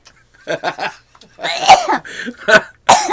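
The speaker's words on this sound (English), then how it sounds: "you're coughing in people's ears" Several close, harsh coughs in separate bursts, loud and near the microphone, with short pauses between them.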